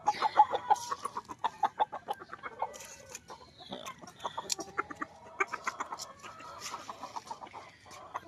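Gamecocks being given feed chatter in rapid, repeated clucks close by, the short bursts overlapping in a busy, uneven rhythm with no talking.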